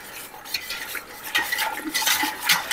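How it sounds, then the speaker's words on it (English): A whisk stirs apple pie filling sauce in a pot, giving brisk, light scraping and clinking strokes close by that come in irregular bursts and grow busier toward the end, with no voices. "I need a whisk because we need to whisk this up so that it doesn't clump"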